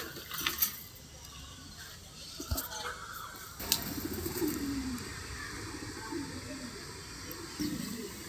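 Pigeons coo softly and repeatedly close by, low throaty murmurs under outdoor background noise, with a few sharp knocks and rustles and someone talking intermittently.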